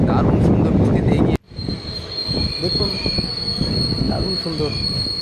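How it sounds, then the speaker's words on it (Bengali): A local train on an Indian railway line near Kolkata, a loud rumble that cuts off abruptly, then squealing wheels with a sustained high screech and rattling carriages close by. "দেখুন দেখুন লোকাল ট্রেনটি এগিয়ে আসছে"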